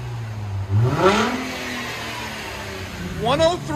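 A 2008 Mercedes C 300 4MATIC with its rear muffler deleted gives a couple of short revs that rise and fall close by, and people talk over the engine.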